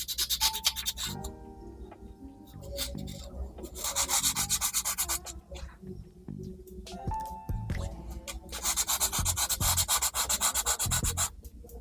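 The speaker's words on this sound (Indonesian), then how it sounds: "Kalau pakai amplas yang terlalu kasar" Sandpaper rubs back and forth over a wooden tree branch in repeated gritty strokes, close and fairly soft, with short pauses between bursts.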